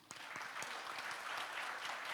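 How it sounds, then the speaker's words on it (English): Steady applause from an audience at an education keynote conference, a dense wash of many hands clapping at moderate volume with no talk. "So give him a big applause again."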